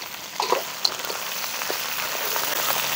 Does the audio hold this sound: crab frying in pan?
yes